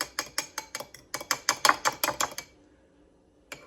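An egg whisked briskly with a fork in a bowl for baked macaroni and cheese, a quick run of about fifteen sharp, even clicks that stops, then one last tap after a pause.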